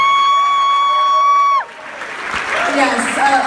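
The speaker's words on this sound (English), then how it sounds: "Please give him a round of applause." Applause and cheering from an audience at a fundraising event raising meals for kids, a broad crowd roar that swells in after a sustained tone cuts off.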